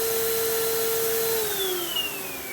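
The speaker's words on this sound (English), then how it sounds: "I like to leave the vacuum on a little longer." A vacuum casting machine hums steadily while casting a sterling silver six-prong ring, a loud continuous whine that drops in pitch partway through as it winds down, with no speech.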